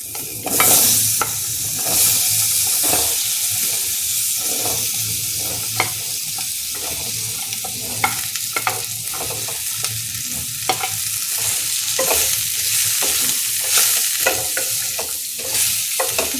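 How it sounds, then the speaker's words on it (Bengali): Potatoes sizzle and crackle in hot oil in a wok while being stirred, a steady loud frying hiss with scraping stir strokes throughout, for a Bengali posto dish with spring onion. "এবার আমি আলুগুলো এই কড়াইয়ের মধ্যেই দিয়ে দিচ্ছি, দিয়ে একটু ভেজে নেব।"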